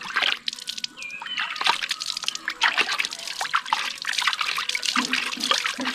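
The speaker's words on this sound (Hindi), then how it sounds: "नल से पानी भी छोड़ सकते हो, पूरा पानी छोड़ के ऐसे ऐसे ऐसे पानी से भिगा सकते हो" Tap water running and splashing over a hydro-dipped carbon fiber paint part as it is rinsed, a steady close wash with sloshing and dripping throughout, no talking.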